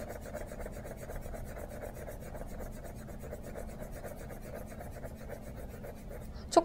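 A colored pencil rubs across paper in quick, even, rhythmic strokes, giving a close, dry scratching that continues steadily throughout.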